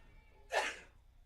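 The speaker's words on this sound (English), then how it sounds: "Bless you" A single sharp sneeze from someone in the press box at a college softball game, Vulcan versus Gannon; one quick burst, fairly close, with quiet room tone around it and no talk.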